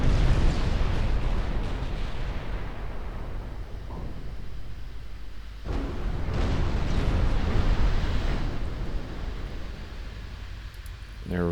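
Heavy 15-inch naval guns firing in a naval battle in Ultimate Admiral Dreadnoughts, deep rumbling booms and explosions rolling into one another over a constant wash of sea and battle noise, with a few sharper blasts standing out.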